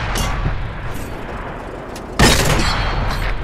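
A T67 tank destroyer's cannon fires once in a battle game: a sudden loud blast midway that cuts through steady engine rumble and then leaves a sustained roar.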